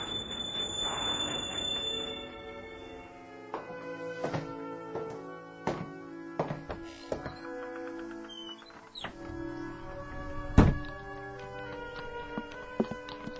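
A train rolls in with rumbling wheels, metallic thunks and clanks, and brief squeals, slowing amid rhythmic knocks and a loud jolt near the end.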